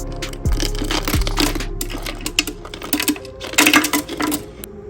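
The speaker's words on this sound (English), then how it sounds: "So throw this in the tumbler," Rusty, painted bolts from a 1972 Dodge Charger rattle and clatter inside a Harbor Freight tumbler, a dense, close, continuous stream of metallic knocks and jingles.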